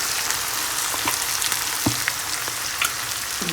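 Fried rice sizzles steadily in a hot pan, a dense frying hiss broken by scattered clicks and scrapes as the rice is stirred, close and continuous.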